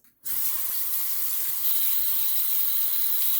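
Tap water runs steadily into a sink for rinsing off, a loud continuous hiss that starts abruptly after a brief quiet moment and holds to the end with no talking.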